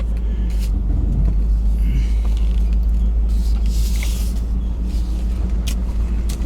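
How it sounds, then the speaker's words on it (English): Land Rover engine idling with a bad misfire, a loud, deep, close rumble that runs steadily throughout with uneven knocks and a few brief higher rattles. "it misfires really bad"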